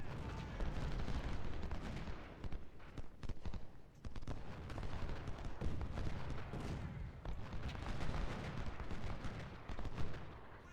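Skirmisher musket fire crackles in a Civil War strategy game battle at Chantilly, a dense, continuous run of overlapping gunshots and distant booms from many rifles, heard alone without talk.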